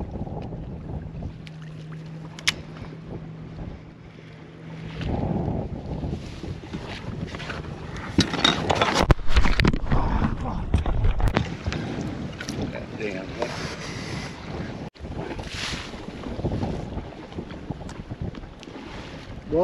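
Strong wind buffets the microphone aboard a fishing boat out after redfish and trout, a steady loud roar with gusty surges and water sounds, and a voice speaks briefly partway through.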